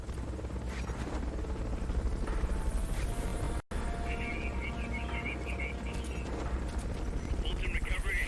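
Helicopter hovering overhead in Metal Gear Solid: Peace Walker, a steady dense rotor drone mixed with game effects and chirps, continuous and loud, briefly cutting out once midway.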